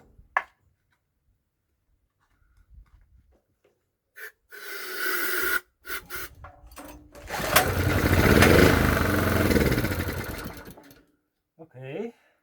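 A small generator engine fires on brake cleaner, sputtering to life in two short, loud bursts and cutting out between them, close by, with a few faint thumps around the runs.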